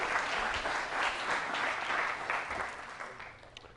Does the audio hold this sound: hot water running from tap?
no